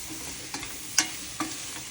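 A spoon mixes masala through cut mango pickle pieces with soft scraping and two or three sharper clinks against the bowl, set against a faint steady hiss.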